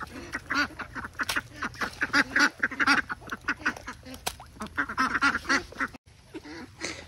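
Domestic ducks quack in a rapid, overlapping chorus close by, loud and busy throughout with a brief lull near the end, outdoors in light rain.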